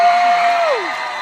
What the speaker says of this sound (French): Accueillons la candidate sur les rôdeurs et nos applaudissements.